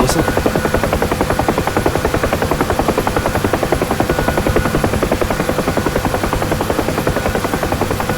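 UH-1 Huey helicopter in flight in the DCS flight simulator, a loud, steady rotor chop over a continuous turbine whine that fills the whole clip without pause.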